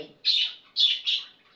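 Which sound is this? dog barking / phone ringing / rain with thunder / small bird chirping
small bird chirping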